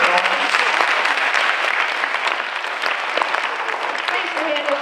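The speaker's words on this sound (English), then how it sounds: "give Mr. Tassoni a big round of applause?" An audience at a high school juniors' university kickoff event gives a big round of applause, dense continuous clapping filling the room at close range, with faint voices mixed in.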